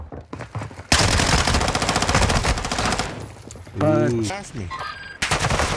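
Loud video game gunfire in Call of Duty DMZ, dense rapid automatic bursts roaring up close, a brief pause, then more shots, with a squadmate's voice talking over part of it.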